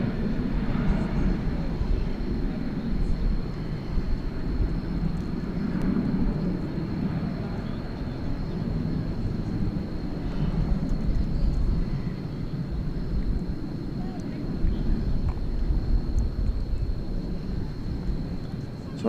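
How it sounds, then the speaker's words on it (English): An American Airlines Boeing 737-800 heads out on departure for Omaha from DFW at night, sending a moderately loud, steady low rumble with a thin high tone running through it. "Off to Omaha, we have American Airlines flight number 2628,"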